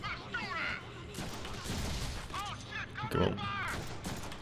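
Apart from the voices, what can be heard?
pistol shots in Deadpool video game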